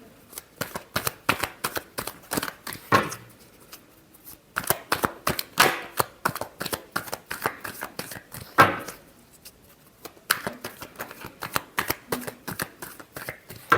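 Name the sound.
shuffling a deck of tarot cards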